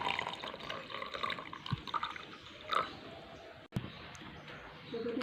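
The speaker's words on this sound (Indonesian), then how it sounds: "Selanjutnya kita tuangkan air" Water is poured into a container as the solvent for a chemistry colloid preparation, a steady liquid splash and trickle heard close over a noisy background with a few small knocks.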